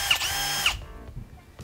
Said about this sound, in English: Just your basic power drill